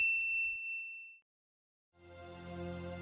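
A single bright notification bell dings once, ringing briefly and fading, followed by silence before other sound begins.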